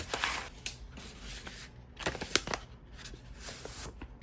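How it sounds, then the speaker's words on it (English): A small, reused shipping package with bubble wrap inside is ripped open, giving close crinkly tearing and rustling in quick bursts of plastic and paper noise, with no voices. "go ahead and rip open a small package"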